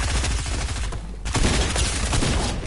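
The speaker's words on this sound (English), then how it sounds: "Laser gun." Rapid automatic fire from a laser gun in a video game, a dense unbroken burst of shots that stops briefly and then resumes, loud and close.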